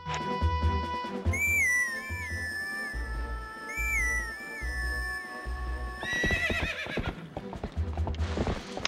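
Epona, the horse in Zelda Twilight Princess, trots with a steady clip-clop of hooves and gives a loud, close neigh, while high whistling tones and music play throughout.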